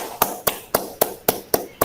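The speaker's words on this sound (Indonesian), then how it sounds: "beri tepuk tangan dulu untuk kelompok 1" A single person claps slowly and steadily in a classroom, about seven evenly spaced sharp claps, fairly quiet, following a group presentation.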